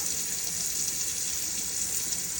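Running tap water streams steadily over a coconut being washed, a constant close hiss of flowing water with no pauses and no talking.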